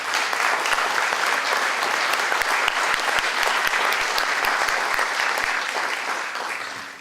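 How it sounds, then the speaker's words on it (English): Sustained audience applause filling the room at a Yom HaShoah commemoration, dense steady clapping throughout that tapers slightly near the end. "could you give them a round of applause?"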